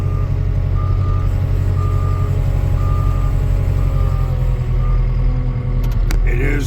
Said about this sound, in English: Machine's been running for about 15 minutes, letting it warm up.